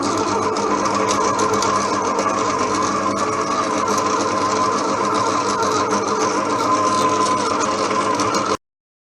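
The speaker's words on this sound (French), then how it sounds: "je vais donc, comment dire, battre les jaunes avec le sucre" Electric mixer beating egg yolks with sugar for a chocolate cream, running loud and steady with a dense mechanical whir before cutting off abruptly.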